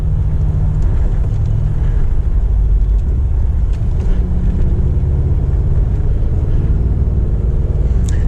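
A Mercedes G63 AMG under way, its engine and side-pipe exhaust giving a loud, continuous low rumble that rides along steadily with no break.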